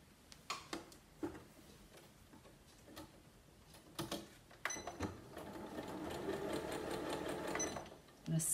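A sewing machine stitches fabric seams, its close, rapid mechanical ticking starting and stopping in short bursts before settling into a longer continuous run.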